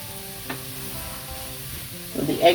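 Eggs for pineapple fried rice with shrimp and vegetables sizzle quietly in a pan, with a light scrape near the start and a louder burst of crackling frying near the end.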